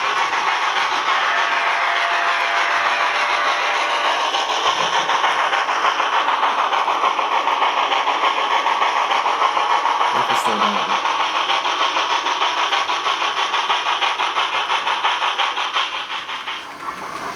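Rapido HO Royal Hudson model steam locomotive running with onboard sound, a steady loud hissing, chuffing rumble that continues for many seconds, a brief click midway, and fades slightly near the end.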